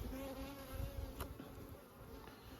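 Honey bees buzz around an open hive box while a beekeeper moves a super of a weak colony onto a stronger hive; a steady, close insect drone persists throughout the short stretch, with no speech.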